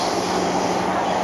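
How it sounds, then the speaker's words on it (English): Steady rumble and hiss inside a moving Singapore MRT metro train during a ride, a constant close roar with no break. "We're on the metro right now"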